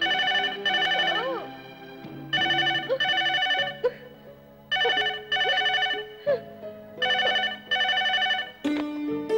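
A loud electronic telephone ringtone plays a bright, repeating melodic pattern in regular bursts, ringing on and on with short pauses between.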